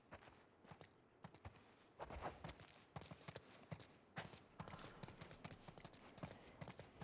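Horse hooves clip-clop in The Last of Us Part II, a run of quiet, uneven hoof strikes at walking pace, fairly close, continuing throughout with no voices.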